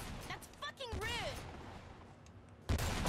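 Gunshots in the video game Lollipop Chainsaw, a few sharp close bursts set among game sound effects including a rising and falling warbling tone, with one loud shot near the end.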